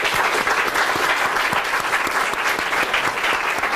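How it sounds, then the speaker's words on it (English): An audience at a panel discussion on Swedish and international engagement in Afghanistan breaks into steady, full applause, a dense wash of many hands clapping at even loudness throughout, with no talk over it. "I think we can give them a big applause."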